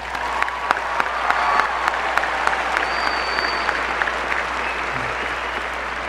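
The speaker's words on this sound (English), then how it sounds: "So let's give us a big round of applause." A crowd applauds during a high school graduation speech, with a full, even roar of many hands clapping that holds steady from start to finish.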